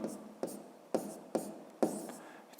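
Hand-written numbers on paper during a fifth-grade math lesson, five or six quiet scratchy pen strokes in an irregular rhythm, close and alone.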